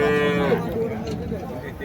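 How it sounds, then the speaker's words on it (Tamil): A cart bull mooing once, loud and close, at a busy cow market in Uthangarai. The long tonal low fades into a murmuring market din with faint voices behind. "ஸோ வண்டி காளைங்க."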